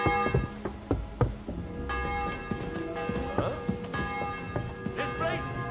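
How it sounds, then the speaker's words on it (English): A church bell tolls in Kingdom Come: Deliverance II, its sustained ringing tone sounding repeatedly over a busy medieval scene with knocking, clatter and background voices. "The 11th toll of the bell."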